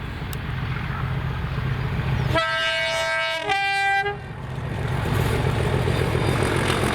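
A charter tour train passes in the open countryside near Stirling Castle, with a steady rumble of rolling wagons and a clear two-tone horn sounding for about two seconds midway.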